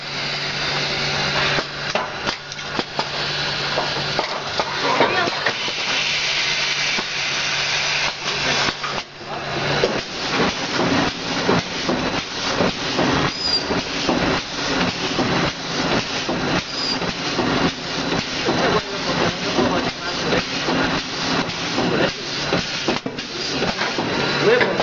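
A gypsum powder packaging machine fills a 25 kg bag with a continuous loud mechanical rattle and rhythmic clatter, steady throughout with a brief dip partway, and faint voices now and then in the background.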